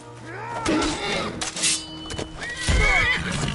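A horse whinnies loudly amid a busy mix of game sound effects, with bursts of noise and other voices around it.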